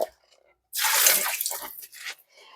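A silicone sponge scrubs sourdough dough off a bowl under cold running water, a close, loud rushing wash lasting about a second and a half, then tapering off.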